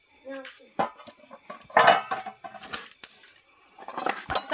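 Pots and pans clatter in a home kitchen during dinner preparation, with a few sharp metallic clanks and scrapes spread across the moment, interleaved with brief voices talking nearby.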